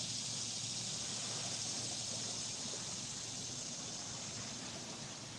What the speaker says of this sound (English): You can hear the river in the background.